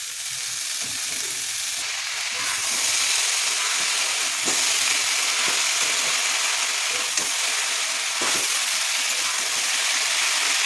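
Continuous sizzling and hissing of eggplant frying in a little oil in a pan, broken by a few soft clicks and scrapes from stirring.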